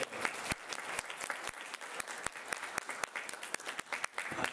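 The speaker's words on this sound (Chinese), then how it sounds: "请大家掌声鼓励，欢迎" Applause from an audience welcoming a speaker at a touring political lecture in Tainan, a dense, steady wash of many hands clapping close by throughout, with no talk over it.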